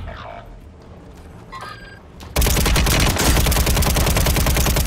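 Gunfire in the shooter game MW3 Warzone, first quiet with scattered faint shots, then a sudden loud, sustained burst of rapid, close firing that fills the rest of the moment.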